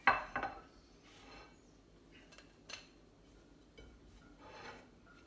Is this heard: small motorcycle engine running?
no